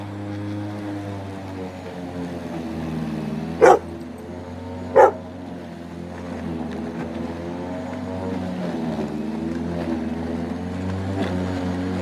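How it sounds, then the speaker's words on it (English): A dog barks twice in sharp, separate bursts over the steady drone of a nearby lawn mower cutting grass, then one fainter bark follows near the end. "There's Cooper barking at her."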